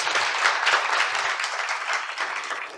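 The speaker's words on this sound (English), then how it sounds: "a huge round of applause again for Yulin and Cruz" An audience applauds a keynote speaker at an innovation summit, a dense, sustained round of clapping filling the hall.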